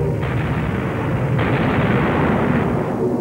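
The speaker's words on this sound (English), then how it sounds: "The crack of machine gun fire mixed with the muffled explosion of depth charges." Wartime gunfire and explosions over Sydney Harbour, machine gun fire mixed with muffled depth charge blasts, heard as a dense, continuous loud rumble of battle with no clear individual shots.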